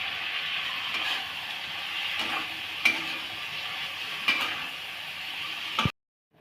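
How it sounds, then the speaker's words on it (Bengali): Okra frying in a spice masala in a pan, stirred with a utensil: a steady broad sizzle with a few sharp scrapes and clicks, close and continuous, then cutting off abruptly near the end. "মশলা ভেন্ডিগুলো দিয়ে দিলাম এর মধ্যে।"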